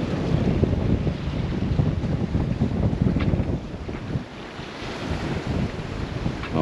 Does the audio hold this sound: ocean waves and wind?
yes